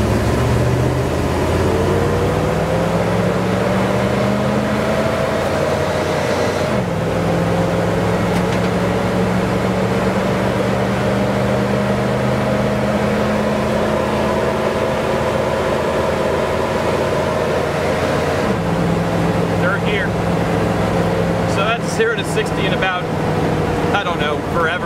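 A 1993 Humvee M1038 engine revs hard in a steady, loud drone, its pitch dropping and settling at two clear gear shifts before rising again.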